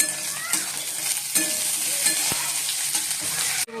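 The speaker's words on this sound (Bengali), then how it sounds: "আর এবার দিয়ে দেবো কাজু আর কিশমিশ।" Cashews and raisins fry in hot oil in a pan while being stirred, giving a continuous close crackling sizzle with occasional scraping knocks of the spoon.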